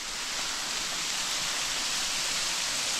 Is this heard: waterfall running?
yes